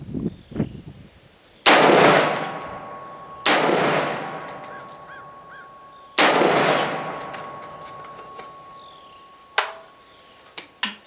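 An Anderson AM-15 rifle fires 55 grain ammunition outdoors in three loud, sharp shots, each followed by a long decaying echo, with metallic clinks near the end.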